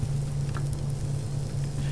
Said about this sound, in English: It sounds maybe like it's raining